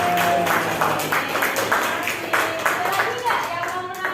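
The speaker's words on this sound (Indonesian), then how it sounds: "Oke, beri tepuk tangan buat" Classroom of students clapping for a classmate after an answer, brief rhythmic hand claps from a small group, fairly close, with a faint background hum and some voices mixed in.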